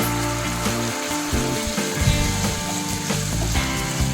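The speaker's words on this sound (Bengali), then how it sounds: "যতক্ষণ না আদা রসুনের গন্ধটা যায় ততক্ষণ আমি এটা ভাজতে থাকবো" Ginger garlic paste with green chili fries in a pan, a loud continuous close-up sizzle with stirring scrapes and bubbling crackle throughout, without talk.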